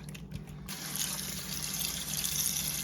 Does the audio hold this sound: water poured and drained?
yes